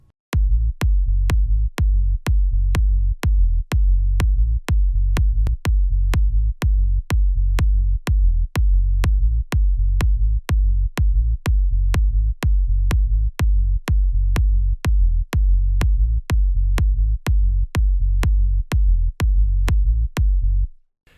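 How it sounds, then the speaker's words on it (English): A Brazilian bass groove of punchy kick drum hits over a heavy, sustained sub bass, the kicks falling in a fast steady pulse for about twenty seconds, loud and dense with no voices. "So here's the sub and the kick."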